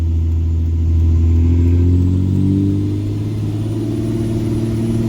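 Truck engine revving steadily under load while its wheels spin on a snowy road as it pulls a tiny house, a loud continuous drone that swells and dips slightly without any talk.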